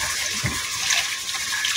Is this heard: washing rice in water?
yes